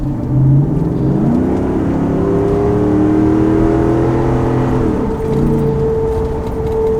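A car engine fitted with a dry airflow filter in place of an oiled one revs up loudly and holds a steady high drone before settling back to idle, close and continuous with no talking.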